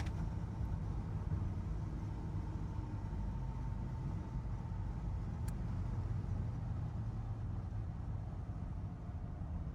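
From the cab of a 1963 Chevy C10 pickup at about 60 miles an hour on the highway, a constant low engine and tire rumble with road noise runs on evenly, without voices.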